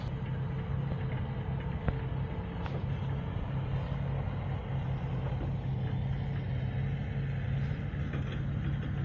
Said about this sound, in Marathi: स्पेशल बारूदेर ट्रक बरोबर नाव.